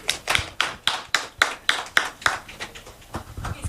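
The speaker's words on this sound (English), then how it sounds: "Can we clap for our panelists and our moderator?" Audience applause at the launch event for a research report on Ghana's education sector plan, with a run of sharp, evenly spaced claps that thin out and grow scattered toward the end.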